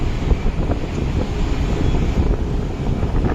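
Strong wind beneath a highway flyover on NH66 buffets the microphone in a continuous loud rushing roar, steady and gusty throughout with no voice present.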